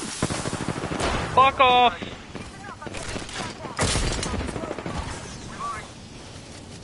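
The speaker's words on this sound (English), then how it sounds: "Shooting at me." Gunfire in Apex Legends, rapid bursts of automatic shots and single cracks mixed with weapon handling clicks, with players shouting over the shooting.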